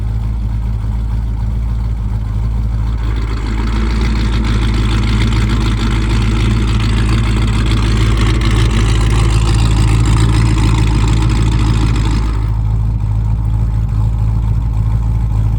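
Idling Fox Body Mustang with the Valvetronic exhaust cutout closed gives a steady, muffled low rumble, close and constant, with a brighter hissing wash rising over the middle stretch before settling back.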